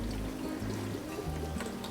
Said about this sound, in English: So I'm just gonna pour all of that into my bowl here.